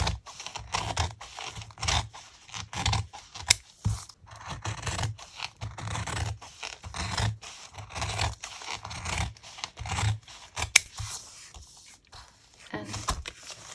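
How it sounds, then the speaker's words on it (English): Scissors snipping through a piece of plastic at home, a series of crisp cuts and scratchy rustles in irregular bursts, close and fairly quiet. "And I'm going to cut that piece of plastic there."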